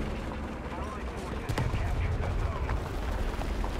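Gunfire strikes the player's tank in a combat video game, with sharp impact cracks sounding over a rumbling battle din that grows louder partway through.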